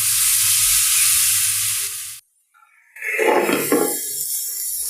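Potatoes fry loudly in a pan with a steady broadband sizzle, then cut out for a moment of near silence before the sizzling resumes alongside a brief scraping stir.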